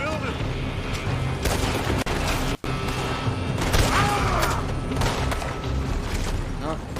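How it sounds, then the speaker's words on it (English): Gunfire in a shooting video game, with shots coming from a building: a steady barrage of overlapping bangs and rattles under a continuous game soundscape, one brief sharp break partway through. "They're shooting from that building."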